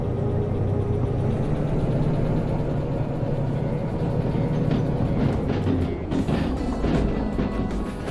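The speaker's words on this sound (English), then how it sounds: "start this train rolling" A DE6 diesel locomotive in the Derail Valley game starts to roll, its deep engine drone steady and loud, with metallic clanks and rattles picking up toward the end.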